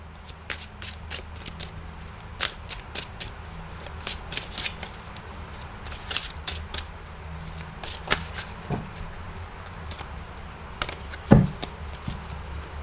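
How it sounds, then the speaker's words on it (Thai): Fortune-telling cards are shuffled and laid out, giving a close, steady series of crisp riffling snaps and soft slaps at an uneven rhythm, with no talking. "จะเปิดไพ่ประกอบให้นะคะ"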